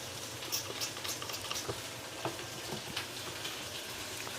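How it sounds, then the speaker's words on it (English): Food sizzles and pops steadily in a frying pan, a soft continuous crackle with scattered sharp little spits, fairly quiet and close, with no talking over it. "So you can hear them propping, sizzling."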